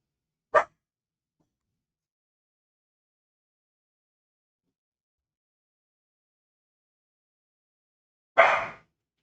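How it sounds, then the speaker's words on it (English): Dogs barking in two short, loud bursts at the start and near the end, separated by a long stretch of silence, with no talking in between. "There goes the dogs."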